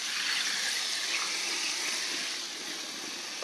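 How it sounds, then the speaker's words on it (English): A garden hose sprays water onto a compost-covered melon bed in a continuous, steady rushing hiss that holds close and fairly loud, easing slightly toward the end, with no talk. "All I'm gonna do now is put some water on it. I'm gonna soak it down"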